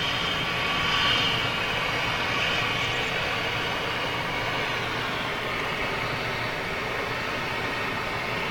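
An Airbus Neo airliner passing at Gatwick Airport in London, a broad steady jet engine roar that is loud near the start and eases slightly as it goes by.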